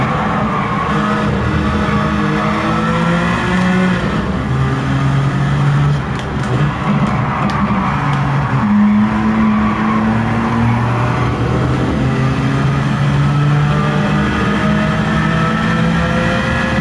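A Jaguar XJ220 engine drones loudly and continuously in Gran Turismo 7 racing, with rising and falling revs across gear changes and faint sounds of other cars around it.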